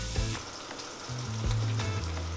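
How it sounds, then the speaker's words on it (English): Pancetta fries in a hot pan until crispy, a steady close sizzle broken by sharp crackles and pops as the fat renders, with no voices. "we're going to add 4 ounces of pancetta, and we're going to just cook that off quickly until it's nice and crispy"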